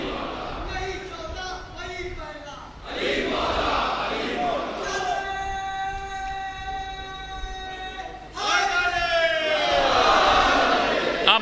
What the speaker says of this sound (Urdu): بتائیے نعرے لگ رہے تھے عزیزو،